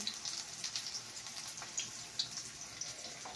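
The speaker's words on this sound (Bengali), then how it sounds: "তো এদিকে ডিমের অমলেট হচ্ছে" An egg omelette with chopped onion fries in a pan with a steady, soft sizzle and small irregular pops and crackles throughout.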